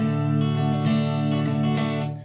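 Fast, steady guitar strumming of a song's strumming pattern with quick down-up strokes, ringing chord sustained throughout, close and moderately loud with no talking.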